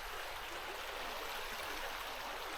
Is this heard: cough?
no